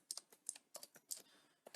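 Fast, uneven typing on a computer keyboard, with bursts of close, crisp key clicks separated by short pauses, heard alone in a quiet room.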